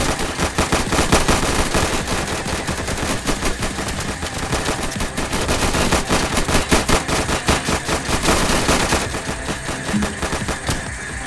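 Dense, rapid gunfire from a Minecraft version of the game PayDay2, bursts of machine-gun fire rattling continuously and loudly for the whole stretch with barely a pause.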